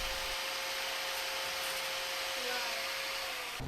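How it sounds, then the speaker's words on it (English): An angle grinder cuts a notch into a steel swing-keel centerboard from a trailer sailboat, a loud continuous high whine and grinding hiss that holds steady throughout. "I used the angle grinder like this to put that little notch in it."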